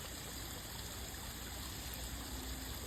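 A waterfall below an overhanging tree root rushes as a steady, even wash of water noise that never lets up, heard alone and fairly faint.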